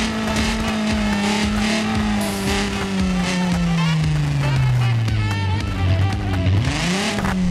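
Supra car engine in the BeamNG driving game, a loud sustained roar with a steady pitch that sags gradually as it builds speed, then rises sharply again near the end, continuous and close with faint tire noise.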